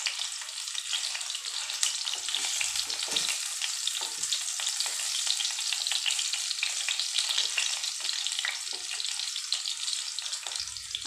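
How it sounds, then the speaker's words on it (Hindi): Stuffed bitter gourds (bharwa karela) sizzle and fry in oil over a low gas flame, with steady crackling and occasional soft stirring scrapes throughout, close and continuous with no talk. "अब गैस की फ्लेम को हमें स्लो रखते हुए इनको थोड़ा सा हमें तेल के अंदर चला देना है"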